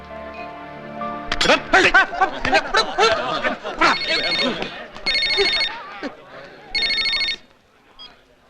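A telephone rings in repeated electronic bursts, each lasting about a second, while people talk loudly over and between the rings.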